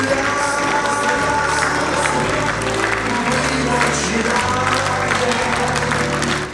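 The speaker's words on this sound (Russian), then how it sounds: "В последний путь мэтр проводили под бурные аплодисменты." Stormy applause at a funeral farewell ceremony for a theatre figure in Samara, a sustained wash of crowd clapping over a droning music-like background, with a murmur of voices underneath throughout.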